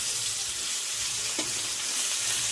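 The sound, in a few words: raw green banana frying in oil with salt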